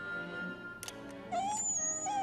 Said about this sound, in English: Is that actually the dog?